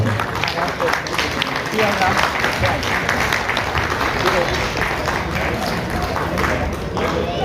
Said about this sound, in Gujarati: આ મિત્રોને ગમે ત્યારે ફોન કરીને કહી શકે એમના માટે તાળીનો ગડગડાટ કરો